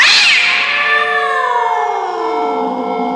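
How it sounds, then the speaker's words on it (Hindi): A black cat's long, loud drawn-out meow as a horror-story sound effect, one close wailing cry sliding downward in pitch and fading over about three seconds, with no talk. "उसके सामने वही काली बिल्ली खड़ी थी जो उसने पहले देखा था"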